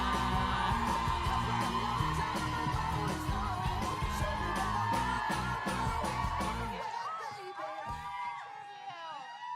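A convention panel audience screaming, whooping and cheering loudly in a sustained roar, the crowd noise then dying away into scattered shouts.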